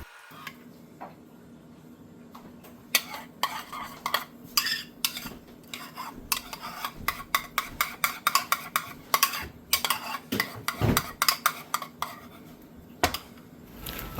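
Utensil scraping and clinking in a bowl while stirring a burger meat mixture with mustard and ketchup, irregular quick taps and scrapes up close, with no talking.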